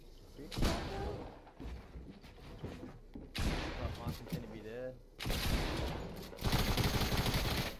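Shotgun and other gunfire in the video game Stormwars, loud bursts of shots in several clusters, with a player talking over the action.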